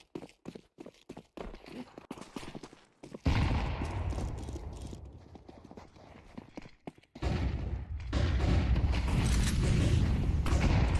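Gunfire in a Counter-Strike match, a Desert Eagle and rifles: sharp separate shots early, then dense bursts of rapid fire that carry to the end, loud and close, with no voices.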